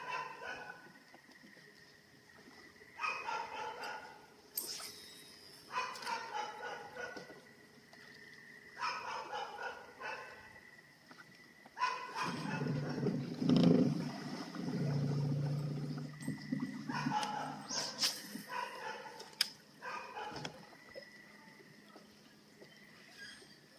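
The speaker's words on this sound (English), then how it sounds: "These people won't shut their dog up" A neighbours' dog barks in short repeated bursts at a moderate distance near a fishing spot, the barks faint to medium in loudness, alone with no talk.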